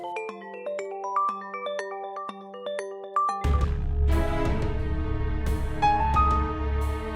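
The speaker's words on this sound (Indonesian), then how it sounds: "Jelek banget tuh ringtone." A tinny electronic phone ringtone plays a bouncy melody alone, then continues under a sudden burst of louder, fuller music with a deep bass layer.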